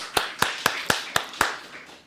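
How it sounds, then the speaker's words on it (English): Six evenly spaced claps ring out at a steady rhythm for the team behind a virtual green energy awards evening, a thin, close round of hand-clapping with no voices over it. "Let's give them a round of applause as well."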